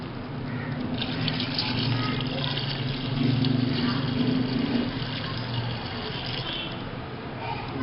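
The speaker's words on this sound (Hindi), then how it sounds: "तो अब हम इस पानी को ऐड करते हैं।" Water pours steadily into a cooking pot of goat trotters for mutton paya, a continuous splashing gush that runs for several seconds at moderate loudness.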